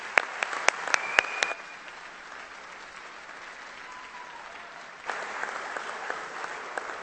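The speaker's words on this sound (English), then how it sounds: "Please, let's give them another round of applause." A graduation commencement audience applauds the faculty at a spring ceremony: a few sharp nearby claps at first, then a sustained wash of crowd clapping that fades and swells again, heard at a moderate distance with no talking.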